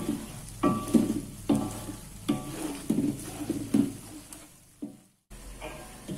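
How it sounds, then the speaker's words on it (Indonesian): Tomato and dried shrimp sambal sizzling gently in a pan over low heat, with repeated bursts of stirring scrapes every second or so and a steady soft fry underneath, briefly dropping out near the end. "memasak sambal tomat ebi ini dari awal sampai dia matang tetap menggunakan api yang sama ya, tetap menggunakan api yang kecil"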